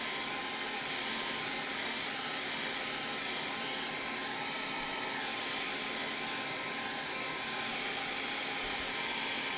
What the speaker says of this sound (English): We're going to hit it with the hair dryer real quick.